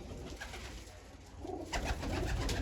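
Pigeons in a loft coo in soft low repeated calls, with a few nearby birds overlapping and the cooing growing fuller toward the end.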